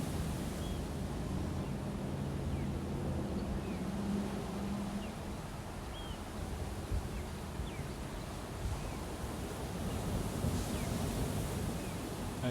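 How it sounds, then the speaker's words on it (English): Steady broadband wash of ocean waves rolling onto the shore below a tree overlooking the sea, continuous and moderately loud with wind noise mixed in and faint high bird chirps scattered throughout. "I hear the sound of waves"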